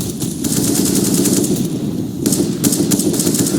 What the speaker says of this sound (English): the open arms of Phelps with the AK, who will greet them lovingly with the embrace of that AK-47